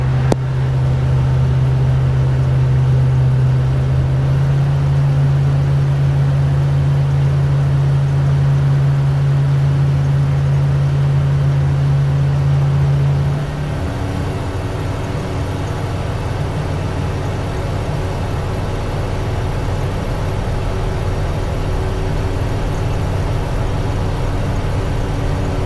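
Light aircraft engine in the traffic pattern running at a steady drone, with a power change partway through as throttle is adjusted to hold speed; continuous, close cockpit sound with no talk.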